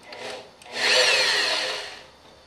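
A power drill whirs into wood for a sailboat mast fitting for about a second, a loud grinding burst close by after a brief faint scrape.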